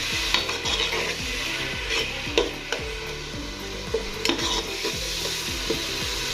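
Tomatoes and chicken cubes stirred in a hot sizzling pan while preparing matar pulao, a steady fry hiss with regular scraping stir strokes and occasional utensil knocks, close and fairly loud.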